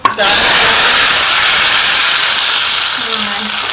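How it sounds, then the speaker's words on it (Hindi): A sudden loud hiss bursts out as hot oil tempering with browned garlic hits dal, then settles into a strong, steady sizzle. "हम दाल में तड़का लगा लेंगे।"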